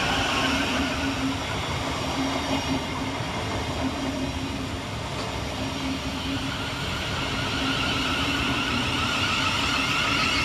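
A Thameslink Class 700 electric train arriving at Burgess Hill railway station: a continuous loud rumble and hum of the train rolling in, steady throughout, with no voices.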